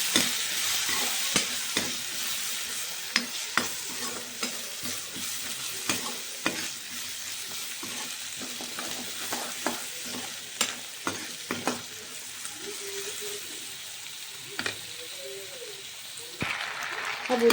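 Chickpeas frying in a pan, a soft sizzle under frequent sharp clicks and scrapes of stirring, close by, with faint voices now and then.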